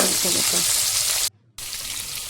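Chopped vegetables and large curry leaves sizzle and fry in a pan while being stirred, a loud, steady hiss broken by a brief dropout.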